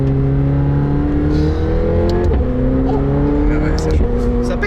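McLaren 720S performance version with sport exhaust revving under load while driving, a loud continuous engine drone with rising and falling pitch through gear changes, with talk over it.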